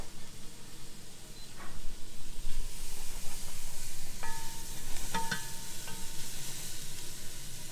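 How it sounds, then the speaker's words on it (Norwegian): Onion, garlic and fennel sizzle in butter in a pot, a steady frying hiss with occasional stirring scrapes and clinks, close and constant. "vi nå svisser i gryten"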